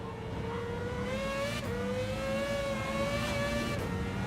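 Sustained engine drone of an Espas driving in Gran Turismo 7, a steady harmonic tone whose pitch climbs gradually with brief shifts around the gear changes, loud and continuous with no talk over it.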